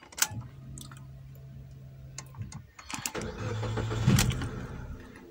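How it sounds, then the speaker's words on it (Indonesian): A 2014 Suzuki Ertiga GX car engine cranks and catches, a brief starter whir followed by the engine settling into a steady idle, heard close up inside the car with a few clicks and no talk. "ini kita coba hidupkan mesinnya"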